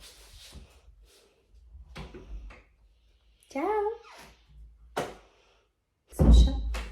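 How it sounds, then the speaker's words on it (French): A door is opened to let a dog out indoors, with a few thunks and clatters of the latch and door in sparse bursts, a short spoken word in between, and a heavy bump near the end. "on va lui ouvrir la porte."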